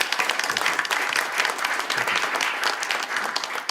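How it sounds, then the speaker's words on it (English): A crowd at a mayoral meeting with the US Labor Secretary applauds an agreement signing, with loud, sustained, dense clapping from many people continuing steadily without speech. "So I really would just like one more round of applause for the agreement that Mark is signing today."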